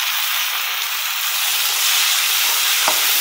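Tamarind and tomatoes hit hot oil in a frying pan, giving a loud, close, broadband sizzle that swells and crackles, with a brief stir clink near the end.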